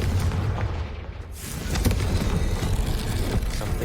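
A Confringo blasting spell in Hogwarts Legacy lands as a loud, close boom with a deep rumbling blast that swells after a brief hush and carries on as a dense roar.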